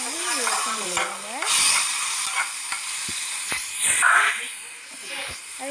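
Onions sautéing in a pan with ginger-garlic paste, a steady broadband sizzle with stirring scrapes and swells, under occasional voice in the background.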